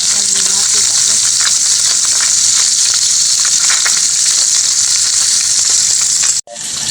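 Fish frying in hot oil, a loud, continuous hissing sizzle with faint crackles that holds steady close by and then cuts off abruptly near the end.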